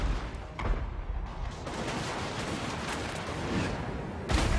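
Cannon and artillery fire booming in a Warhammer Online video game battle, a dense rumbling barrage of blasts at moderate volume with a sharper burst near the end.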